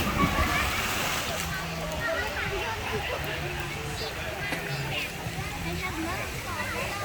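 A child jumps into a deep hotel swimming pool at a Centara resort in Pattaya, bringing continuous splashing and sloshing water while people talk and call out in the background.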